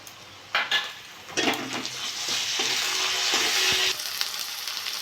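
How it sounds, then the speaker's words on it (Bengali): Onion frying in a pan as ginger-garlic paste goes in for a rohu fish curry with potato and brinjal: a rising hiss of sizzling oil with spatula scrapes and clinks, close, no talking. "পেঁয়াজটা ভেজে নিয়েছি, আদা রসুন বাটা 1 চামচ দিয়ে দেবো।"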